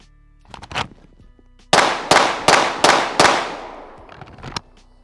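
A pistol fires a quick five-round string outdoors. Five loud, sharp cracks come in an even rhythm, each with a short ringing tail, and fainter pops sound before and after.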